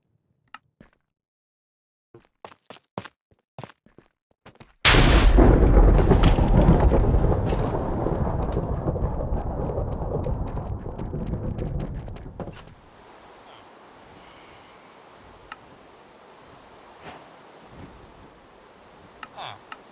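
Thunder rolls through a Minecraft world, a sudden loud crack that rumbles on for several seconds and fades to a low roar, preceded by scattered faint clicks.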